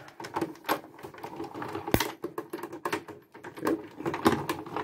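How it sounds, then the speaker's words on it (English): An old Cuttlebug die cutting machine cuts card, its crank turning in a dense, steady series of clicks and ratcheting taps, close by with one sharp knock partway through. "So I'm just pulling out my old Cuttlebug here. And we are going to cut this."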